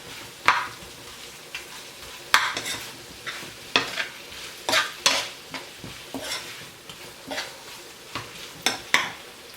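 Spoon stirring chicken 65 with tomato and coriander in a hot pan, a steady run of scraping strokes over a soft background sizzle, close and fairly loud with no talking.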